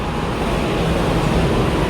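Road traffic near a metro station still under construction makes a continuous dense roar, loud and unbroken, with no single passing vehicle standing out.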